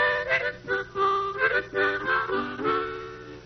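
Harmonica played in an old cowboy style, short wavering breathy chords and bends in a quick rhythmic phrase, close and alone.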